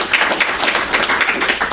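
A small audience gives a brief round of clapping for a panel of HR recruiters on a podcast: a short, close burst of scattered individual claps with no talk over it.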